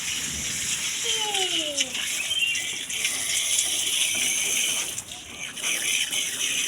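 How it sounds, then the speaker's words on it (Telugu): Water pours in a continuous splashing hiss throughout, fairly close and steady, with a short voice-like sliding tone near the start. "పావురం నీళ్ళు పోస్తున్నావా?"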